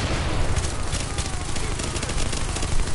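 Dense, loud, continuous automatic gunfire from a shooter game's Dark Zone fills the whole stretch as rapid overlapping bursts close by, with barely any talk heard.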